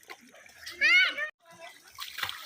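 Water splashes from a child swimming in a pool, heard briefly close up. A voice and other speech are mixed in with the splashing.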